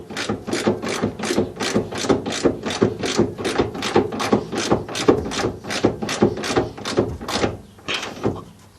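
A ratchet wrench with a 13mm socket tightens bumper bolts on a Saturn, giving a long run of fast, evenly spaced clicks that stay close and steady before stopping.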